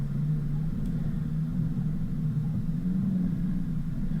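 A vehicle's engine drones low and steady under heavy throttle while climbing a wet clay hump on a muddy track at Tallarook, rumbling continuously and close with slight swells in pitch and no talk.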